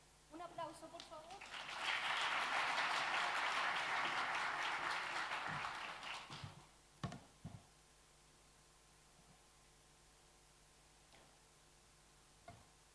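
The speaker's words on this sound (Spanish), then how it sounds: "Un aplauso, por favor." An audience at a financial awards event breaks into applause, building quickly to a full steady clapping for about four seconds before thinning to a few scattered claps and quiet room tone.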